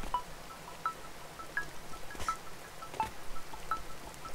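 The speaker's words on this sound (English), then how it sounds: "When did they add this rain?" Steady rain falling in the video game A Hat in Time, a soft continuous hiss with faint scattered drops and light ticks.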